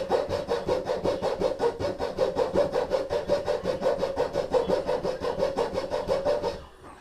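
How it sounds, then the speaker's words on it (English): A hacksaw cuts lengthwise down a bamboo piece in fast, regular back-and-forth strokes, close and rasping, about four strokes a second, before the sawing stops. "we'll take our hacksaw and we're going to cut down the length of the blade"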